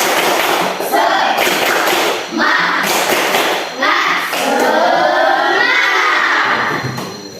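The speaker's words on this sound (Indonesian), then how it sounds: "Tepuk semangat." A classroom of students performing the rhythmic 'tepuk semangat' spirit clapping chant, with loud group claps and shouted voices in a steady beat, close and lively throughout.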